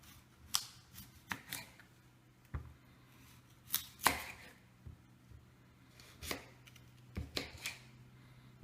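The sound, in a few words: chopping beet and beet leaves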